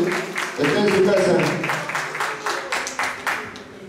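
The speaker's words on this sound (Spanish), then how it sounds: "el aplauso para el señor Godofredo" Applause for a man named Godofredo at a family party celebrating a mother's 50th birthday, a crowd of hands clapping steadily for about four seconds, with some talk and voices mixed into the clapping.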